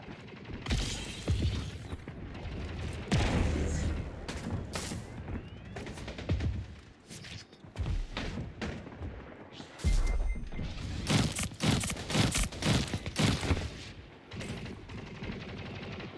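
Gun bursts in the Splitgate 2 shooter, loud clustered volleys of rapid shots with short gaps between them, mixed with other game effects.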